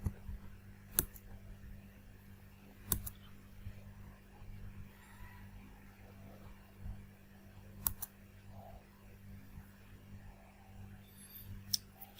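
A computer mouse gives a few sharp, sparse clicks, roughly four spread across the stretch, over a faint steady background hum.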